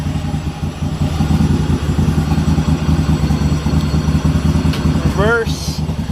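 Garden tractor engine running steadily and loud at close range, a throbbing mechanical chug with clattering gear noise as it is shifted into gear, and a short squeaky chirp near the end.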